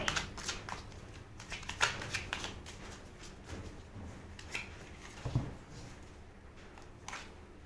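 Tarot cards are shuffled and drawn by hand in a quiet room, with close, papery riffles and slaps coming in irregular bursts and no talking over them.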